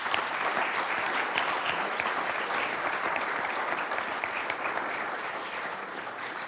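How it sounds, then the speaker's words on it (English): Audience at the Vienna Economic Forum applauds panelists at the close of a stage discussion, a dense, even round of clapping sustained for several seconds at moderate volume. "you deserve a big applause first"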